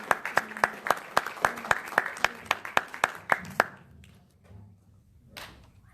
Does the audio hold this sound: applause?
yes